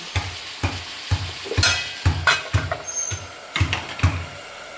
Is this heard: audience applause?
no